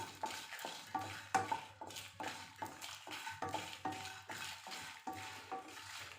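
Star anise, cloves, mace and fennel dry roasting in a pan for chicken biryani, stirred in quiet, steady scraping strokes about twice a second, with no voices.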